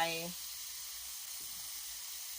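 Pork belly stir-frying in a pan for rice mixed with shrimp paste, giving a steady, even sizzle and hiss after a brief voice at the very start.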